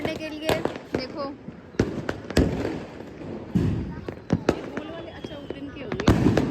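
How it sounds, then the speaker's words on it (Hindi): Sharp firecracker bangs pop irregularly, several close and loud, some fainter, with people talking in between. "सो गाइस अभी हम आए पटाखे फोड़ने के लिए।"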